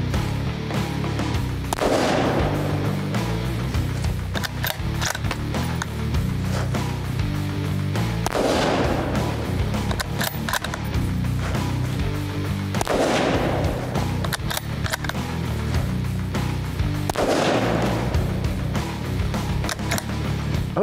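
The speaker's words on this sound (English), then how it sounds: "let's shoot 5 shots and see if we can keep them all in the red circle" A rifle fires HSM hunting ammunition at a target 100 yards away. Several loud, booming shots are spaced seconds apart, each followed by a rolling echo over steady background noise.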